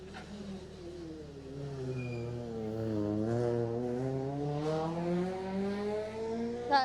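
A rally car drives a stage at the Jersey Rally, its engine note climbing and dipping through gear changes, steady and moderately close throughout.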